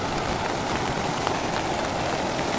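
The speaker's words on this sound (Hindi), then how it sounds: "अभी बारिश चल रही है अभी भी" Steady rain falling in the mountains at Gangori, Uttarkashi, near the Ganges, making a dense, even hiss with scattered droplet patters throughout and no voices.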